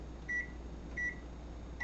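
A microwave oven hums steadily while melting butter, with three short electronic beeps spaced about a second apart sounding over the low drone.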